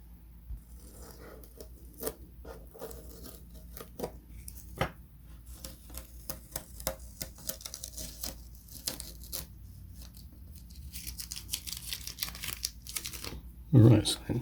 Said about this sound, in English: I just need to carefully cut along that line using the groove as a guide.